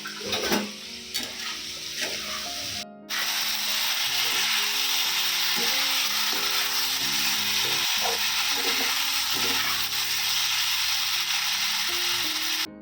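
Vegetarian curry sizzling loudly in a pan, a dense continuous frying hiss with a spatula scraping and stirring through it, a few faint knocks near the start before the sizzle swells and holds steady.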